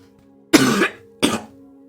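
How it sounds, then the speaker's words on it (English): Two separate coughs from one person, a longer harsh cough followed by a shorter one, close and clear over a faint steady hum. "I have to cough though."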